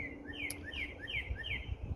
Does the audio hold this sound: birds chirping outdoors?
yes